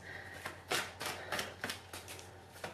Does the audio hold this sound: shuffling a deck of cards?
yes